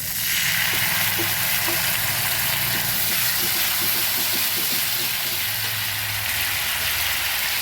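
Water splashed onto ginger, garlic and onion paste frying for a Bengali tengra fish curry: a loud, steady sizzling hiss close by that fills the whole stretch, with faint bubbling underneath.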